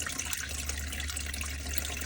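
Lake water drains from a Fountain powerboat's engine block in a steady, close, rushing stream, continuous and unbroken with no talking.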